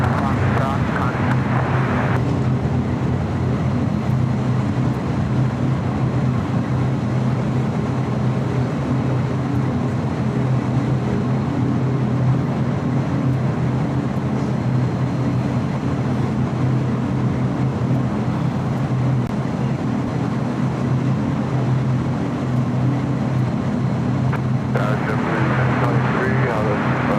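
A jet airplane at LAX roars with a broad, steady engine rumble as it takes off from the runway, sustained and loud for the whole stretch, with faint radio chatter around it.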